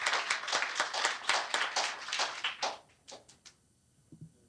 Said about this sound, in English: Have a round of applause for Frank and Jean.